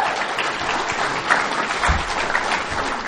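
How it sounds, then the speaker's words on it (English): Applause from an audience at a winter holiday convention in Little Rock, Arkansas, a dense steady wash of clapping that fills the whole stretch, close and fairly loud, with a few scattered louder claps. "They clap for everything."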